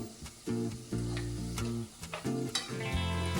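Fries made from fasting flour shallow-fry in a pan with a soft sizzle. Pieces are shifted and stirred with repeated scraping clatters at an uneven rhythm, and oily bubbling hums in between. The sound is close but fairly quiet, with no talking.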